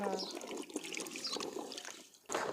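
Raw turmeric being washed by hand in a basin of water, with continuous splashing and trickling close by for most of the span, a brief lull, then a renewed burst of sloshing.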